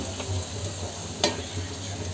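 Onions, tomato and green chilli sauté in a pan with a steady close sizzle, broken by a brief scrape of stirring.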